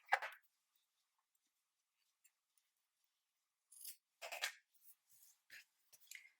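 Scissors trimming yarn on a crocheted koala pencil topper: a few soft, close snips, one at the start and a quick cluster of small cuts near the end, faint against silence.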